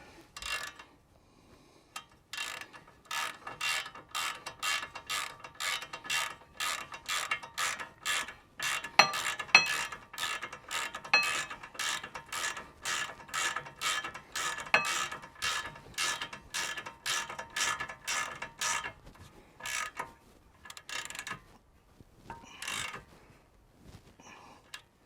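A ratchet clicks rapidly and evenly as it tightens a nut on a car's driveshaft during a split CV boot repair. There are many close, crisp ratcheting strokes in steady runs, then a few slower clicks, with no talk.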